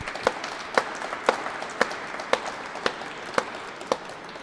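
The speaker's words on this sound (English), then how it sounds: "So big round of applause." A room at a Black History Month 2025 event gives a round of applause, with a crowd murmur and sharp, evenly spaced single claps standing out about twice a second.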